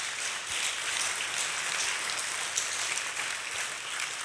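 Audience clapping at a crab and pasta dinner event, a dense, even patter of many hands heard at moderate distance, holding steady for a few seconds with no voices over it.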